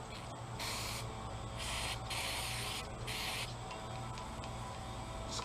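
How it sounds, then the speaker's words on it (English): Carb cleaner sprays from an aerosol can onto a Willys L-134 cylinder head in several bursts, close-up hissing blasts of about half a second to a second with short gaps between them. "So we got some carb cleaner here."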